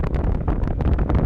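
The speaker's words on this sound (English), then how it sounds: "It's getting awfully windy out here." Strong wind blowing outdoors, buffeting the microphone with loud, continuous low rumbling gusts throughout, no voices present.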